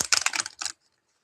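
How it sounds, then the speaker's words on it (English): Tarot cards are bridge-shuffled, giving a quick close riffle of crisp fluttering clicks for well under a second, then the sound stops into silence. "I always like to close on a bridge shuffle."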